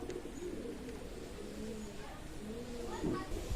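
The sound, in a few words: Dabla pigeons cooing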